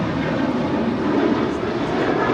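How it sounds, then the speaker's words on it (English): United Airlines Boeing 737-800 departing LAX for Las Vegas, a loud, steady jet engine roar dense in low and mid tones, continuous and unbroken for the short stretch, no voices. "This is United Airlines Flight 2449 departing to Las Vegas on a 737-800."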